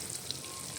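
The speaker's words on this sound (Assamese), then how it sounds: "সৰু খুৰীয়ে এতিয়া পূৰা মাছ ভাজি আছে" Fish fries in hot oil over an open fire, a soft steady sizzle with faint crackles, quiet and brief.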